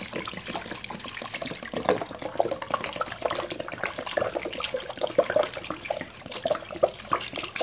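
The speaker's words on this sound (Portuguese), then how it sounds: "E aqui a gente vai colocar mais água." Water pours into a small plastic bucket while making a homemade fabric softener, a continuous splashing, gurgling flow with uneven bursts, close by and fairly loud, with no talk over it.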